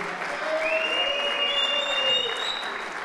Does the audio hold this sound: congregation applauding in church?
yes